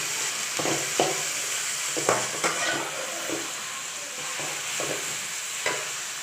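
Cabbage stir-fries in a pan for veg noodles, a steady close sizzle broken by repeated scraping and clinking strokes of a spoon against the pan.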